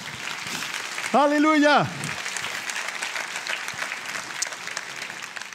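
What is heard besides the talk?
congregation applauding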